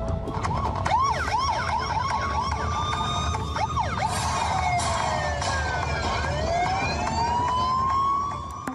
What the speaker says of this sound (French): Des sirènes en version techno qui hurlent dans les enceintes.